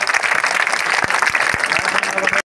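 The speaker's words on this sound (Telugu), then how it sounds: "క్లాప్స్ నాన్న," Loud audience applause at a girls' school kit-distribution event in Gooty, with dense continuous clapping broken by a few sharper claps, cutting off abruptly at the end.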